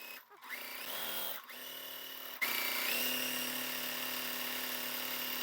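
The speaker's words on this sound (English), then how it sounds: "I'm going to sew on 1/4 inch away from the center" Sewing machine running steadily while stitching quilt fabric pieces for half-square triangles, a continuous motor whir that stops briefly and restarts, then carries on louder for several seconds; no talking over it.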